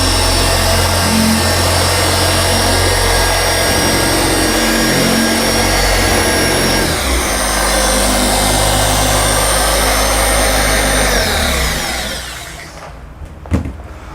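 A dual action polisher works paint correction on a car with an alumina polish, a loud continuous whirring drone that shifts pitch now and then before winding down near the end, followed by a brief knock.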